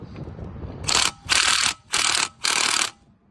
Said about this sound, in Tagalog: Wheel bolt is a 17, size 17 on the socket.